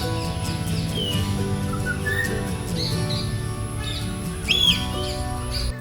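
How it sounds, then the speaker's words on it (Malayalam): Birds chirping and whistling at Thrissur Zoo, near the entrance, with several thin tweets and short calls scattered over a steady low background hum, moderately loud and without talk. "എൻട്രി ടിക്കറ്റ് എടുത്ത് ഞങ്ങൾ അകത്തേക്ക് കയറി വരുമ്പോൾ തന്നെ നമുക്ക് ആദ്യം കാണുന്നത് കുറച്ച് ബേർഡ്സ് ആണ്"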